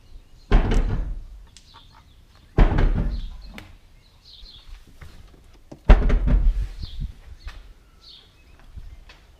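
Three solid thunks of a new Acura NSX trunk lid being shut, spaced a few seconds apart, with quiet rustling and faint clicks between them.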